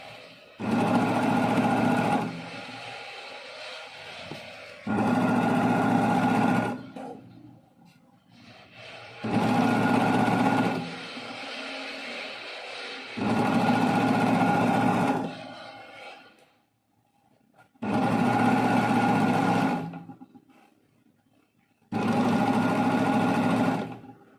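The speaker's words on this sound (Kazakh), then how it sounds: "Оверлокпен тіккен кезде астыңғы жағын байқап отырмыз, астарын" An overlock machine sews the lining of a dress in six loud, steady bursts, each lasting about two seconds, with short quieter pauses between them.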